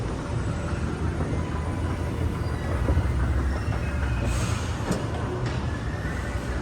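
Los Angeles Metro Rail train at the Hollywood and Highland station, a steady loud rumble and rolling roar running throughout, with a brief higher hiss toward the end.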